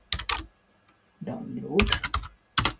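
Keys on a computer keyboard clatter in short bursts while a command is entered, with a voice speaking briefly between the taps.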